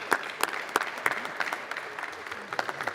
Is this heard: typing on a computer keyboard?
no